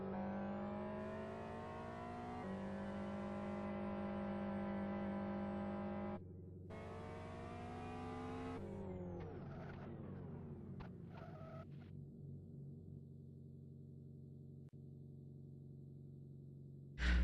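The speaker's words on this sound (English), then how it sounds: "So 30 cars will be charging down. Very short run, but cars should get up to a fairly decent clip" Around thirty touring cars from the 2009 iCON Touring Car Championship accelerate off the start toward turn 1, a loud, steady engine drone whose tones climb and shift through gear changes before settling into a lower rumble, with no talking.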